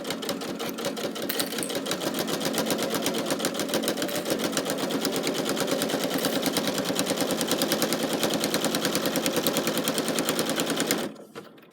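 A sewing machine runs steadily, stitching the long side of a zippy pouch with a fast, even mechanical rattle that fills nearly the whole stretch before stopping abruptly near the end.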